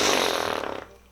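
A loud, meaty fart sound imitated by a voice, told about at a fair: one sustained, raspy blast that trails off over about a second, close and alone.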